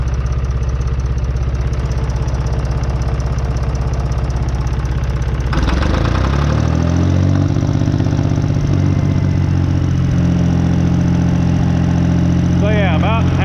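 An engine runs at about half throttle, a loud, close, steady drone that shifts pitch and settles into a rougher, lower tone partway through, with a brief rattle near the end.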